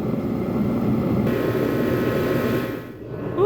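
A corded angle grinder works steadily on the fiberglass hull of an old boat undergoing restoration, giving a loud continuous whirring drone that eases briefly near the end before picking up again.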